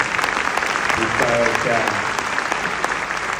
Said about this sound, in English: It's extraordinary and very impressive, and honestly, a round of applause,